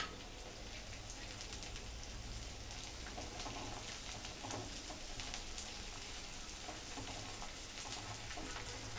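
Edible gum (gond) fries in hot ghee, giving a steady, dense crackling sizzle that runs evenly throughout with no talking.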